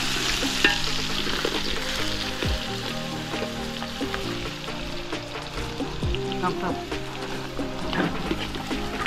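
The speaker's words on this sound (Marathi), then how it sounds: "तेल गरम आहे ना. बस टाक लवकर लवकर टाक. कांदा" Onions hit hot oil in a pan over a wood-fired village stove, giving a loud, continuous frying sizzle with stirring scrapes and clatter close by.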